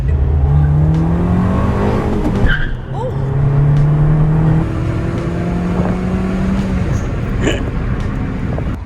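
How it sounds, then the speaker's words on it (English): A car revved hard with rev matching during a street race between a Mustang, a Mercedes C300 and a 350Z, loud sustained engine drone rising and falling with a brief tire squeal, close by throughout. "Let's do a little rev matching."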